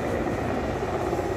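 An army helicopter lands during a trial at Ekana stadium, heard as a loud, steady rotor and engine roar with no talk.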